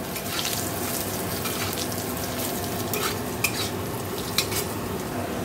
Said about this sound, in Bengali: এখন দেখো এখানে মাছের ঝোলের আলু ভাজছি।